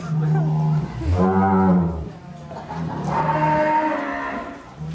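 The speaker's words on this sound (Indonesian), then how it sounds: "Kita akan keluarkan sapi dari Super Ternak Farm." Cattle at a livestock farm moo twice, each a loud, deep, drawn-out call close to the microphone, with a faint hubbub behind.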